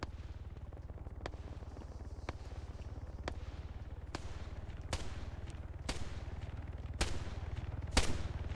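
Gunfire from units in a video game battle, with a tank nearby: sharp, distant-sounding single cracks about once a second over a steady low hum.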